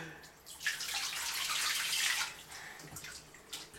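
Water runs and splashes softly in a bathtub as a little girl washes herself, a gentle hiss swelling and easing over a few seconds with light drips and no talk.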